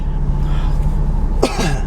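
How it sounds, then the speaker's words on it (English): A single sharp cough bursts out near the end, over a low background hum. "I'm not coughing on purpose"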